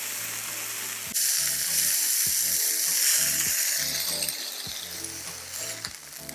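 Chicken pieces for chicken piccata sizzle in oil in a pan, a steady close, bright fry that swells louder partway through, with faint low clinks and taps recurring underneath.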